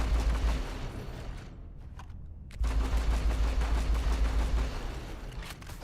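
Full-auto weapon firing in the game Starfield, a loud sustained burst of rapid shots that breaks off briefly near the middle, then resumes at full volume for several more seconds.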